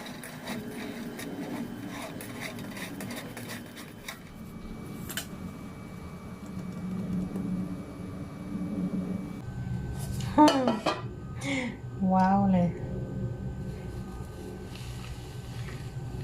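A knife scrapes and rubs softly around the edge of a steamed cake in its pan, with a few light metallic clinks over a quiet background hum.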